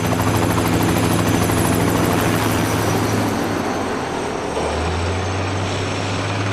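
A helicopter carrying a slung load for cable car construction in Hong Kong, a loud, steady rotor thump and engine whine held close throughout, with the engine pitch shifting lower near the end.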